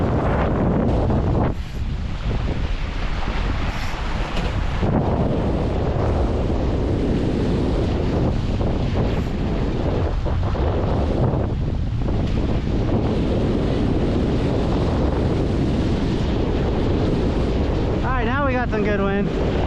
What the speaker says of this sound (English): Some good wind.